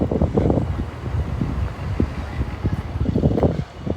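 Low, blustery wind buffeting a microphone, rumbling steadily throughout with uneven gusts and faint voices mixed in.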